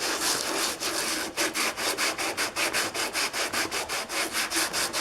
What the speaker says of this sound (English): And sand off any inconsistencies.